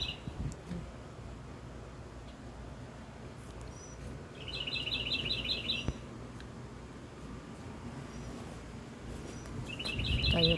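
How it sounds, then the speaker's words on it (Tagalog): Birds chirp outside by a rooftop terrace among houses, quick bright twittering bursts that come and go over a steady outdoor hum, fairly faint. "Ang ibon po."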